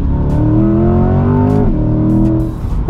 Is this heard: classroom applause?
no